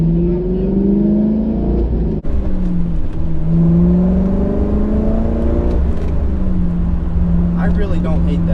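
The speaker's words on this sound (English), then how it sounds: "That Corsa exhaust, man, that sounds great." A Corvette fitted with a Corsa exhaust revs up and down in a deep, loud burble, its pitch rising and falling in several swells with a brief break, up close and over the whole stretch.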